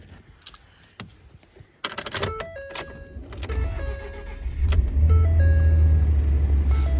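An old truck engine comes to life after scattered clicks and clunks, building into a steady, loud, low idle rumble that settles in and continues through the end.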